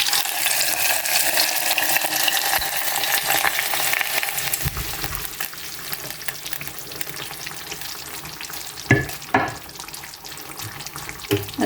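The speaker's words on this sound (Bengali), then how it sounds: "আর এখন বাগারটাও দিয়ে দেব।" Baghar tempering hits a pan of chicken momtaz, giving a loud hissing sizzle that is strongest at first and gradually settles into softer frying crackle. A couple of brief utensil knocks sound near the end, with no talking.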